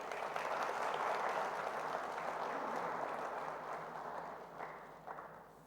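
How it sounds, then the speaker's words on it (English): Applause from a summit audience greeting a panelist at a West African real estate panel discussion, steady and dense for several seconds before gradually thinning and fading out. "Please give him a round of applause."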